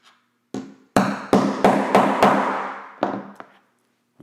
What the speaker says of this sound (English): then we're going to take this tool here, and then we're going to hammer this down